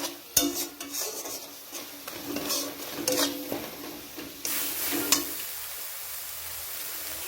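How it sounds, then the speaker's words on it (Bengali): Chicken ghugni masala fries in oil in a pan while it is stirred, with a steady sizzle broken by scraping spoon strokes against the metal, heard close and without talk. "ফ্রাই করছি, তেল ছেড়ে ছেড়ে আসছে"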